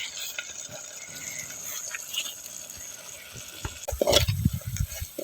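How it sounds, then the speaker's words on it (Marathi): Masala for a village chicken curry roasts in a pan while a spoon scrapes and stirs it, giving light sizzling and scraping, then a louder clatter of stirring near the end. "भाजून निघालाय मस्तपैकी मसाला."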